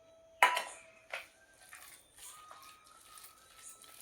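Pakoda batter for crispy moth bean and cabbage bhaji, with soda, ajwain, red chilli and turmeric, being stirred in a bowl: two sharp utensil knocks against the dish, then soft wet squelching and scraping, close and fairly quiet.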